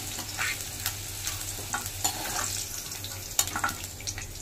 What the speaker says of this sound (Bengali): এইভাবে একে একে আমি সমস্ত সবজিগুলো ভেজে নেব।